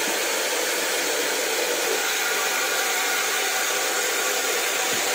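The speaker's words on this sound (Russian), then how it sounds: "по звуку вы будете понимать, что напор тут очень большой идет." A strong, continuous jet hisses from an opened Mayevsky bleed valve on a heating radiator, a loud, unbroken rushing noise that holds steady throughout with no speech.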